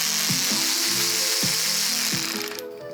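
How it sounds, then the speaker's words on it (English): Ratchet wrench working loose a motorcycle's mounting bolts during a catch can install: a few quick clicking bursts of ratcheting, close and crisp, with short pauses between strokes and steady background hiss. "Let's get our wrench in here."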